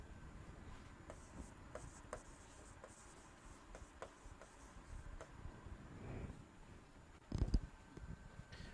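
Faint scratching strokes and light taps mark a teacher writing a sentence on a board during an English grammar lesson, quiet and fairly even, with a slightly louder rub near the end.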